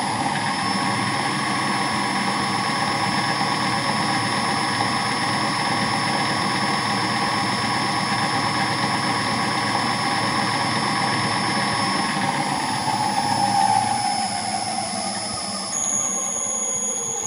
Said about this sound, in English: Fan comes to full speed.